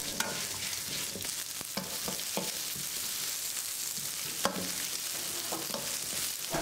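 Small onions, ginger and garlic sauté in a pan for a parotta salna kurma, with a steady close sizzle and frying hiss broken by the scrape and clatter of stirring.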